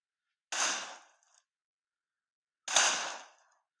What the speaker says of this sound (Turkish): silah sesi geliyor bir yerden